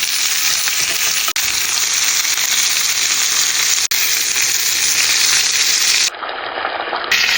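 Lamb chops fry in butter with garlic and rosemary for a Caribbean dinner, giving a loud, steady, close sizzle that runs unbroken with only two tiny dips and no voices.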